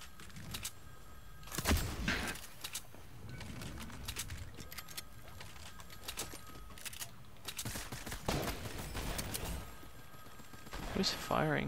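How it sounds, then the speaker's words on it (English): Gunfire in the Fortnite video game, scattered sharp shots and short bursts at moderate distance, fairly faint, with players talking at times. "Who's firing?"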